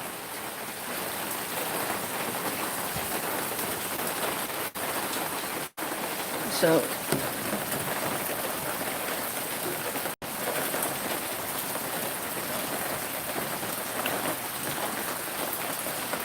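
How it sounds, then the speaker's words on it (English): Warm afternoon rain falls in a steady, dense hiss on surfaces nearby, continuous throughout with a couple of brief dropouts, while a person speaks briefly over it. "And this is just our typical afternoon rain."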